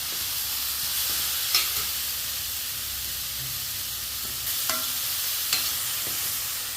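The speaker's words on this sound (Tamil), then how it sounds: "பீட்ரூட்டை போட்டு நல்லா வதக்கியாச்சு" Beetroot sautéing in a pan with tomato for a beetroot and bengal gram curry gives a steady, close sizzling hiss, with a few light scrapes and taps of a stirring spoon.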